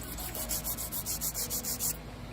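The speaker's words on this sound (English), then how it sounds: "I'm gonna go in with that 80 grit hand file." Coarse 80 grit hand file shaping nails in a salon: about a dozen quick, even back-and-forth rasping strokes, close and crisp, then it stops.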